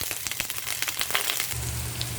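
Black pepper and onion dropped into hot cooking oil for a Filipino chicken tinola, a bright continuous crackling sizzle close by with busy popping and a low hum beneath.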